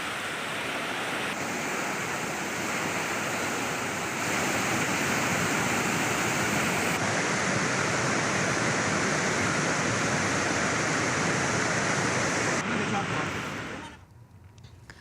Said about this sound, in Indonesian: Arus deras membawa material kayu dan lumpur.